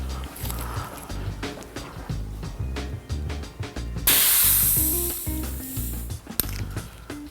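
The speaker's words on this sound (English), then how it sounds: "Next step, we'll just depressurize." Air bursting out of an RL2 suspension fork on an XFusion bike fork as it is depressurized, a sudden loud hiss that starts midway and fades over a few seconds, with background music.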